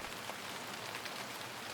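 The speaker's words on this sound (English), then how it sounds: "The rain continued to fall, each heavy raindrop hitting the window glass, creating an endless rattling sound." Heavy rain patters steadily against window glass as a dense, even hiss of drops, constant and moderately loud throughout with no pauses.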